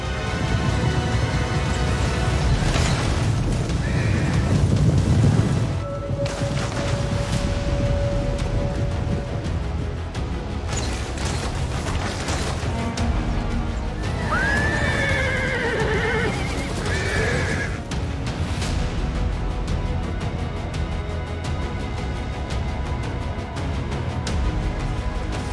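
Cavalry horses of the Huns whinny loudly in a battle scene, with a long neigh near the middle and more calls later, over steady hoof clatter and rumbling battlefield noise.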